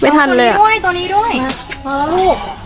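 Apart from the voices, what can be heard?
None of the usual background noises is heard.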